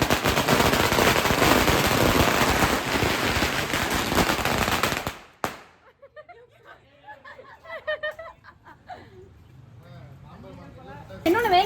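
A long string of firecrackers bursts at a political victory celebration in a busy market, a dense, loud crackling barrage for about five seconds that cuts off abruptly. Scattered voices and chatter follow.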